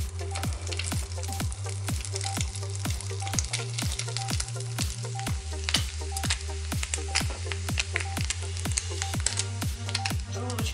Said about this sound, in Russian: Разогретую с маслом сковородку отправляем обжариваться желудочки